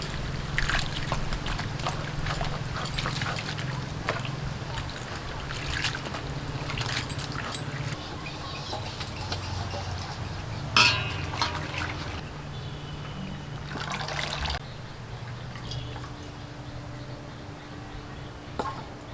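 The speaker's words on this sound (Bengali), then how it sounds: "এখন শাকগুলোকেও ধুয়ে নিচ্ছি।" Chopped pumpkin leaves being washed in water, with sloshing and trickling splashes that go on steadily and fairly close, plus a few sharper knocks, with no talking.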